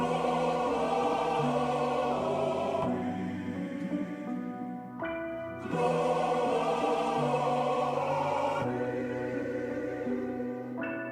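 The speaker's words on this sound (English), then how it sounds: "used this distorted tape to give it a little bit more harmonics and make it sound like a vintage sample" A chopped vocal sample with gritty, tape-style distortion plays in repeating segments, with abrupt cuts between phrases and a warm, saturated tone.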